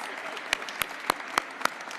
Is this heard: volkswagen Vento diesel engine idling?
no